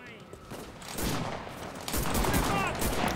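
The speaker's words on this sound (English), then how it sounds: "Who's shooting us, by the way?" Gunfire in the World War II shooter game Enlisted crackles in rapid, overlapping bursts, a dense volley of shots at moderate loudness that keeps going throughout.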